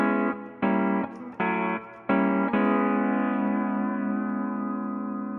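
A C6 steel guitar lick moving through a series of chord changes, from a diminished to a minor seventh shape, with about five struck chords ringing clearly and the last one sustaining and slowly fading, carrying a light echo.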